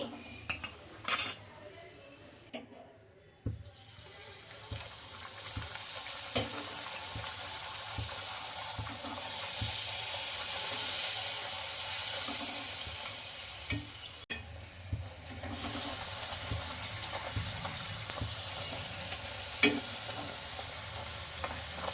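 Urad dal pooris fry in hot oil with a steady, loud hiss and crackle, broken by occasional close clinks and scrapes of a metal utensil in the pan; no one speaks.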